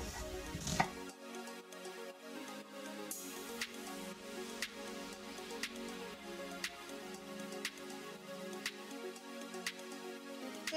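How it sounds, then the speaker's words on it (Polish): A knife chopping onion into small dice on a cutting board, a quick, fairly even run of crisp taps under soft background music, close and moderately quiet. "Cebulę kroję na drobną kostkę"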